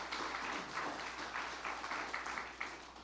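Applause from an audience at the mayor's State of Berwyn speech in the Chicago area, a steady, fairly quiet wash of many hands clapping for about three seconds with no talking.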